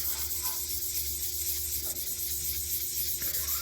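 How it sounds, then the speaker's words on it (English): Steady, close hiss of a spray bottle misting dish soap and water onto 1000-grit sandpaper, continuous and even throughout with no voices. "So spray my sandpaper, wipe my stuff clean"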